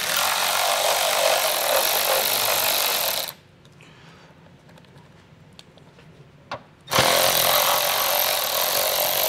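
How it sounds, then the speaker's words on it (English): Socket tool works plastic nuts loose from trim panels on a 2021 Chrysler Pacifica, a loud steady whirring that stops partway, leaving quiet fiddling and a small click, then starts again at full strength. "Put your socket on and we'll get these removed."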